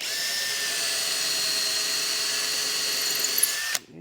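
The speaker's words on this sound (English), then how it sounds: "So I'm just going to put in the brad point right there where that mark was." A power drill with a brad point bit bores into a wooden drawer box, a loud steady high-pitched whine that cuts off abruptly near the end.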